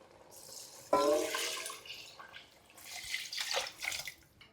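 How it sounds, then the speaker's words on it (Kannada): Water pours from a glass into soaked rice in a pot for white chicken pulao, a sudden splashing rush that fades, then a second, softer pour. "ಫ್ರೆಂಡ್ಸ್, ಈಗ ನೀರು ಹಾಕ್ತಾಯಿದ್ದೀನಿ"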